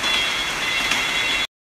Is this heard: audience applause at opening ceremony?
no